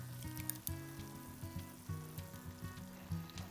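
Thick canned chili scraped and plopped into a pot over a wood stove, giving soft wet thuds and quiet stirring sounds in an irregular rhythm, faint and close.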